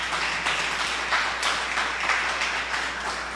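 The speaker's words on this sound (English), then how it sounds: "I want everyone to give all the participants a really big round of applause" Audience at a secondary school debate semi-final clapping for the participants, a steady, moderately distant round of applause with no talking.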